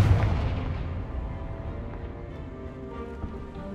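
Confringo fire spell in Hogwarts Legacy bursting as a sharp boom at the start, then a decaying rumble with scattered crackles and small impacts.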